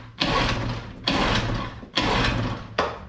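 An Evinrude 6hp outboard motor is pull-started four times in quick succession, each yank making a loud, rough, rasping burst that fades before the next pull, with no sign that the engine catches.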